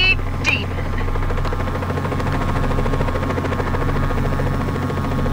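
Helicopter in the video game Just Cause 4, a steady low rotor drone and engine hum that carries on evenly throughout, with a brief higher whoosh near the start.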